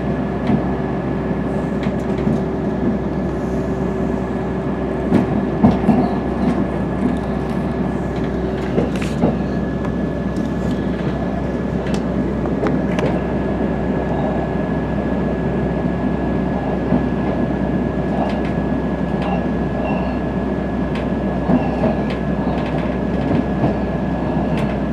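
A train pulls out of Bridlington on the Yorkshire Coast Line in winter, heard from inside the carriage as a steady rumble with sparse clickety-clack over the rail joints and a faint high tone.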